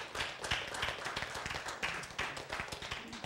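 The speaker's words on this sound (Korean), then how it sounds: "아니 왜 우리 집사람이 맨 먼저 박수를 칠까요?" A single person claps hands during a church sermon, a steady run of sharp, close claps lasting a few seconds with no one talking over it.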